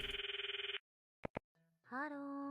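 A phone rings after a redial in the Steins;Gate visual novel: a rapid warbling ring, a pause, two short electronic beeps, then a synthesized tonal sound as the call connects.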